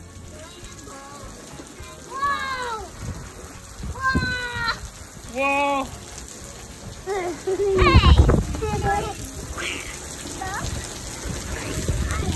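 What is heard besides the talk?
heavy rain pouring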